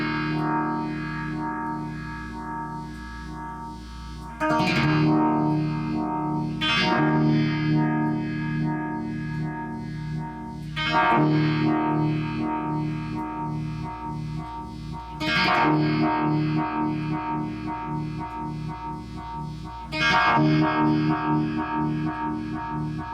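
Guitar played through a Uni-Vibe effect pedal set to its slowest speed and slowly speeding up, with distorted chords struck every few seconds, each ringing out with a swirling, pulsing wobble.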